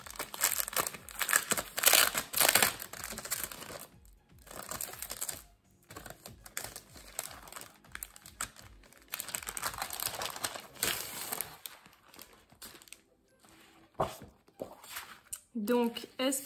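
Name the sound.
opening a scrapbooking mail package, wrapping crinkling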